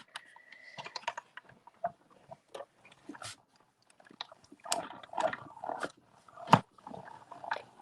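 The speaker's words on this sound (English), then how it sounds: "So we're just going to cut this out." Scissors snipping through paper while a stamped paper-craft bracelet is cut out, with irregular close crisp snips and crunches, some louder bursts, and no talking.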